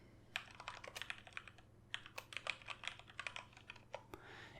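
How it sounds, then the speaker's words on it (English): Close, quiet typing on a computer keyboard during PC part searching, with irregular bursts of soft key clicks and a short pause partway through, all without any talk. "So you could type in the 300 series."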